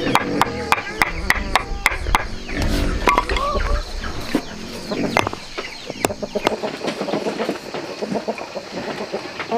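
Chickens cluck and a rooster calls repeatedly in a busy outdoor garden setting, with sharp intermittent knocks and scattered background voices throughout.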